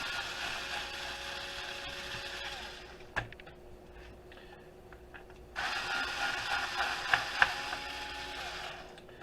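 Screws are backed out while an old laptop is taken apart for scrap, giving faint ratcheting clicks and small metallic creaks in two busy stretches separated by a quieter gap, with a few sharp taps.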